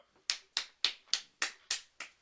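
Seven sharp, evenly spaced claps or snaps, close and crisp with quick decays, mimicking a crowd of tiny hands applauding during a tabletop role-playing game session; no voices.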